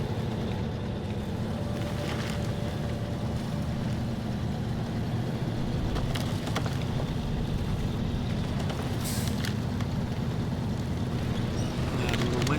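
Kodiak C70 truck in SnowRunner driving and straining to pull during a recovery, a steady low engine drone held throughout with occasional faint clunks, loud and continuous.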